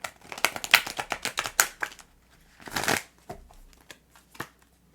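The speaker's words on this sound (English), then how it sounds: "It's nice to have a proper surface to shuffle on." Stiff, fairly new Tarot of Mystical Moments cards being shuffled on a proper surface, a close sequence of quick riffling flicks and soft slaps in uneven bursts, fading to sparse taps.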